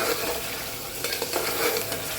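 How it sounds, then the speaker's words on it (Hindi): Beef liver sizzles in a pan with ginger and garlic while being stirred, a steady close frying hiss with scraping stirs running through it and no voices. "चलाते हुए हम इसको थोड़ी देर भून लेंगे"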